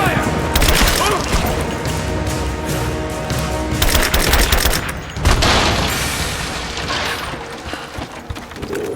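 Gunfire during a combat scene in the Rise of the Tomb Raider video game, dense sustained bursts and booms with mechanical clatter, loud and continuous, with shouted voices mixed in.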